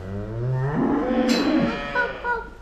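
A dairy cow in the middle of calving lets out one long, loud moo close by, deep and drawn-out with a rising then falling tone.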